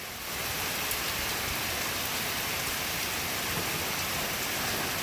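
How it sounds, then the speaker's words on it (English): Heavy rain pours steadily near a windy porch, a dense, even hiss of water drumming on surfaces that holds constant throughout with no pauses. "Rain like this every day."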